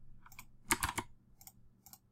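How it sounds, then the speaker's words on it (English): Soft typing on a computer keyboard during a software setup, several quiet clustered key clicks with a brief flurry in the middle, faint and close with no talk. "and then just type in the URL here"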